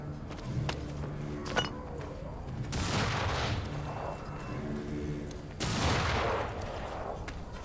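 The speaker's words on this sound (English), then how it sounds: "A bomb." Bombs blow up in the Warhammer: End Times - Vermintide video game, two broad loud blasts spaced a few seconds apart over a busy background of game noise and scattered clatter.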